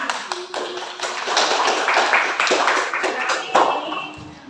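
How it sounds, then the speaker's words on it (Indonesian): Children in a classroom clap their hands in a lively burst of distinct, rhythmic claps, close and moderately loud, with voices mixed in. "tepuk tangan lagi buat kita semua"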